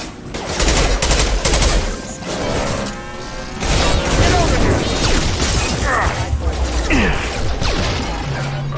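Dense bursts of gunfire in a combat fight in the video game Mass Effect 2, rapid shots and impacts crashing over one another, loud and close, with a voice speaking among the shots.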